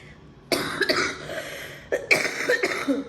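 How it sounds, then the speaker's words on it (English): A person getting over a cold coughs close up in two harsh bursts, a chesty hacking cough followed by a second round of rough coughs. "I hate that after cold cough."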